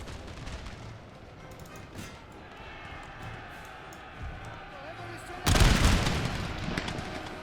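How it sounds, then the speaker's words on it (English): Musket volleys fire in a Napoleon: Total War battle against a British Fencibles garrison, with faint distant crackle and soft thumps over a steady battlefield bed before one loud, broad burst of firing near the end. "A few parting shots on the Fencibles garrison."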